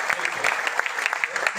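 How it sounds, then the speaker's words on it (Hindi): An audience at a marketing talk claps in brief, dense applause, moderately loud and evenly sustained. "मैं चाहूँगा एक बार जोरदार तालियां होनी चाहिए।"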